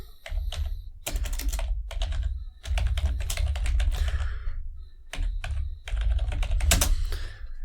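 Login credentials typed on a computer keyboard, rapid clattering keystrokes in close bursts separated by short pauses, loud and near with no talking.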